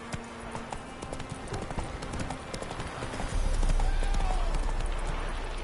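Hooves of a horse named Roach galloping in The Witcher 3: Wild Hunt, a fast rhythmic clip-clop that stays close and steady and grows heavier partway through.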